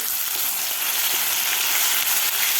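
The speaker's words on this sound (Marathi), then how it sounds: "लसूण आणि मिरची व्यवस्थित एक मिनिटभर आपल्याला परतून घ्यायचं आहे" Crushed garlic and green chili fry in hot oil with a steady, dense sizzle that stays loud and even throughout, with no voices.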